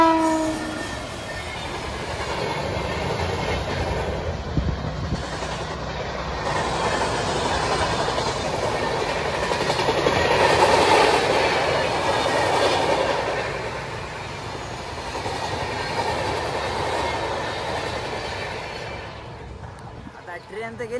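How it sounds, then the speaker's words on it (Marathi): A train rumbles past on the railway by a bridge near Lasalgaon, a broad sustained roar that swells to a peak midway and fades off, with wheel clatter and faint horn-like tones under occasional voices. "ट्रेन आली आहे, तुम्हाला दाखवतोच."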